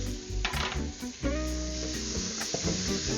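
Diced garlic sizzles in a hot pan for a vegan curried vegetable chowder, a steady close frying hiss broken by scraping stir strokes and a few light utensil knocks against the pan.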